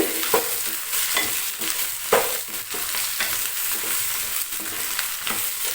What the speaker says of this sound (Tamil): சின்ன வெங்காயம் முழுசு முழுசாக எடுத்து வச்சுருக்கேன் அதை இதோட ஆட் பண்ணிக்கலாம் அதையும் நல்லா வதக்கி விட்டுறலாம்